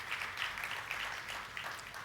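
A church congregation applauds with steady, continuous clapping that stays fairly soft and even throughout, with no speech over it.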